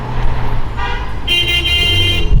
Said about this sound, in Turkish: ne basıyorsun bu barak yerde kornaya?